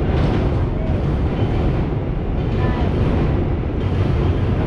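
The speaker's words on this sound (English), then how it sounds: "There's the train." Loud, continuous rumbling roar of a train rolling past close by over a bridge, heavy low noise with wind buffeting and no clear breaks.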